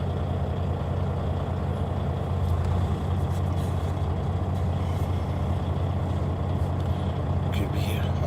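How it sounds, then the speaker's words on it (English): A day cab semi truck rolls past as a steady, loud rumbling drone with a hiss of air near the end, heard from a parked truck. "Here come another truck."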